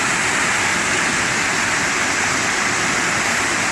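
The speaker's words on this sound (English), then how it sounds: "This is a carry on from the waterfall that we just went up to" A waterfall feeding a rushing stream in a mossy spot, a loud, steady broadband roar that fills the whole clip without a break, close by and alone with no voices.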